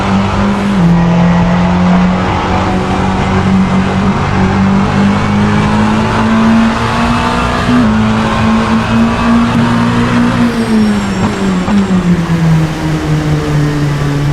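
An LMP2 race car engine in the racing game Assetto Corsa drones loudly and continuously, its pitch shifting up and down through gear changes as the car laps at normal pace without pause.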